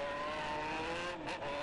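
Jaguar XJ6 engine in GTA San Andreas held at high revs, a steady strained whine with a brief dip near the end, loud and alone with no talk.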